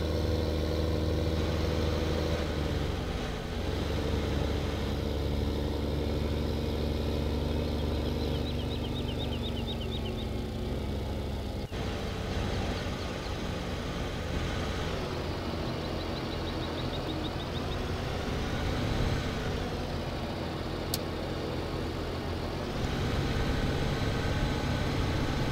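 Steady tractor engine drone from Farming Simulator 15, a continuous mid-to-low hum running throughout at an even level, with slight shifts in pitch partway through and no talking.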